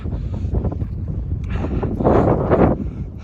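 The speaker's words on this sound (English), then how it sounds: "It's cold, it's windy, but wow." Gusty winter wind buffets the microphone on a mountain viewpoint at Bear Mountain, New York, in low rumbling bursts, strongest toward the end, with no talking.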